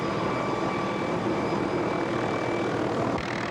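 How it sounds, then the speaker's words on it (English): A rescue helicopter hovers in gusty winds over a flooded road, its steady, loud rotor and engine roar filling the scene without a break before dropping off sharply near the end. "Fighting gusty winds, the helicopter struggles to maintain its position while Cummings grabs hold"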